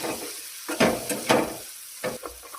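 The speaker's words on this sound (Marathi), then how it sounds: "जोपर्यंत कढईमध्ये लाल कलर तयार होत नाही तोपर्यंत हे मसाले असे हलवितच राहायचे" Spices fry in a kadhai while being stirred, soft sizzling broken by several louder scraping stirs at irregular intervals.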